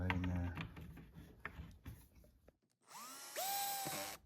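A power drill drives screws during assembly of a REDAYFUR 5-drawer furniture piece, first with a rattling ratchet-like whir, then after a short pause a loud close whine that climbs in pitch.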